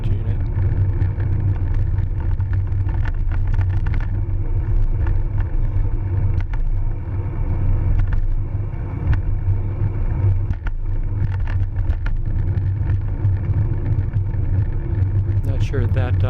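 Steady low rumble of a car engine and tyres approaching from behind a road cyclist and holding pace, heavy wind buffeting over the microphone throughout, continuous and fairly loud.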